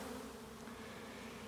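A honey bee swarm drones in a steady, low, continuous buzz, quiet and even, with no voices.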